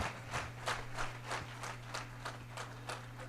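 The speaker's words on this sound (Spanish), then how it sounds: "dele un aplauso fuerte, fuerte" A church congregation claps at a worship service, the rhythmic claps landing in a steady beat, moderately loud over a low sustained hum.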